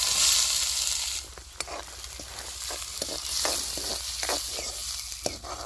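Chopped onions fry in oil with cumin seeds and curry leaves, giving a continuous close sizzle. A spoon scrapes and taps the pan now and then, and a louder hiss opens the stretch.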